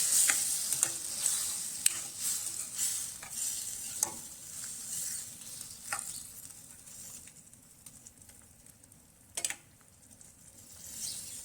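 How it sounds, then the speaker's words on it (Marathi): A spoon repeatedly scraping and knocking against a pan while stirring a simmering tiger prawn curry after water is added, soft sizzle underneath, irregular taps growing quieter. "पाणी घातल्याच्यानंतर थोडं मिक्स करून घेते"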